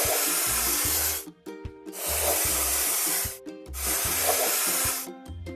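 Cartoon spray painting of a vehicle in a children's game, in three long hissing bursts separated by short gaps with bright game music, loud and close.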